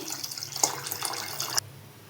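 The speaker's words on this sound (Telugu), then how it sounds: "ఆ చింతపండు పులుసు అనేది నేను పోస్తున్నాను చూడండి" Tamarind juice poured into a pot of Andhra-style sambar: a steady, close liquid splash runs for about a second and a half, then cuts off abruptly into near silence.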